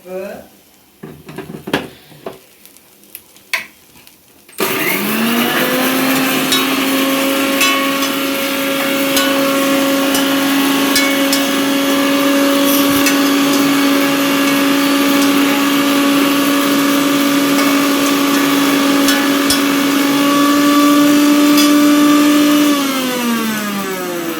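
A mixer grinder grinds dried chillies with salt, starting abruptly after a few seconds of quiet room noise and then holding a loud, steady motor whine with a slowly rising pitch for about twenty seconds before cutting off.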